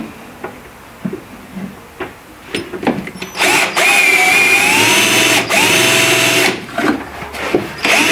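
A power drill bores out the rivets on the stop cable of a Renault 11 GTL. It whines in short starts, then settles into a sustained loud grind close by and stops abruptly a few times.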